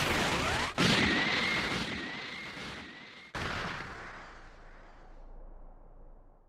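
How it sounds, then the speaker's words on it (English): Special Beam Cannon attack in the Dragon Ball Sparking Zero video game: a loud energy blast with a sharp crack, a sustained roaring beam, then a second explosive impact fading to a rumble. "Special beam cannon!"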